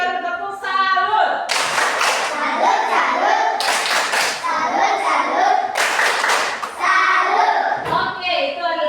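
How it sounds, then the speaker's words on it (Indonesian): Classroom children perform a clapping cheer, bursts of loud unison hand claps alternating with chanted children's voices in a rhythmic pattern. "tepuk salut Putri Fiori."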